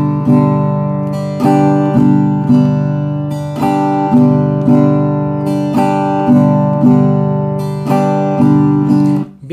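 Acoustic guitar strummed in a steady rhythmic pattern for worship songs, loud and close, sustained chords with regular accented down-strokes and no voices.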